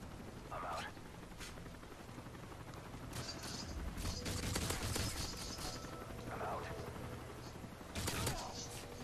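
Rapid gunfire bursts from Call of Duty: Modern Warfare 3 Special Ops co-op play, with a helicopter nearby, crackle steadily and loudly, swelling into heavier volleys midway and again near the end.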